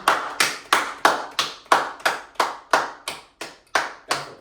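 Podcast hosts clapping in a steady rhythm, about a dozen crisp, evenly spaced claps close to the microphone, sharp and loud with no talking.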